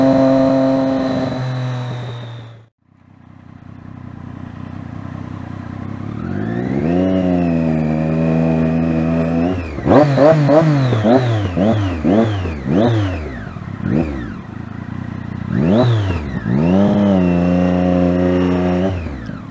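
A loud Daytona 675 motorcycle with an aftermarket exhaust revs repeatedly in city traffic, pitch sweeping up and down in sharp bursts after a brief idle and cutoff, close to the listener.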